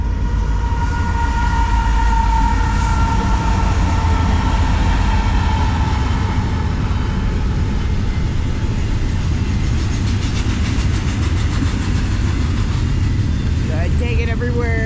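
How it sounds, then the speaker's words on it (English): A train rumbles past at steady volume, a broad continuous roar of wheels on rails with faint squeals, a person talking softly underneath. "Here comes the first train."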